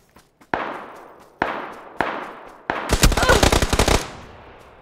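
Gunfire in PUBG: a few sharp single shots spaced out, then a rapid automatic burst of about a dozen cracks, loud and close with ringing tails.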